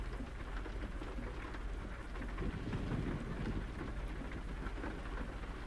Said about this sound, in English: Wish the goddamn rain would stop.